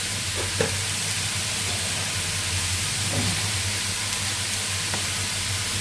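Onion and turmeric fry in hot oil with a constant, dense sizzle and hiss, close up, over a low steady hum, with a few faint clinks of stirring.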